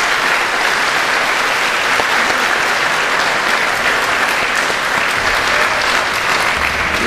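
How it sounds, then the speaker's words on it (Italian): Indoor audience gives Giuliano Pisapia a sustained round of applause, dense, loud clapping holding steady throughout with a faint murmur of the crowd beneath. "quella di Giuliano Pisapia, a cui vorrei dare un nuovo applauso."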